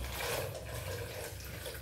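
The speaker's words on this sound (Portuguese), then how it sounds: "Ó, vou colocar mais um pouquinho de água." Water pours in a soft, steady trickle into a blender while making a cassava cream, a close, continuous splashing and filling sound with no talk.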